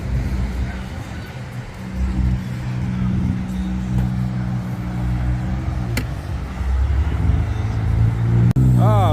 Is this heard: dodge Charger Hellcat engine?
yes